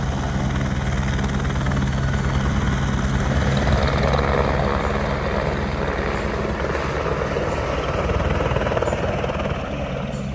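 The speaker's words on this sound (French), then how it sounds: "il y en a qui montent en hélico" A helicopter flies near Everest Base Camp, its loud, steady rotor and engine roar filling the air continuously at close range, with no voices over it.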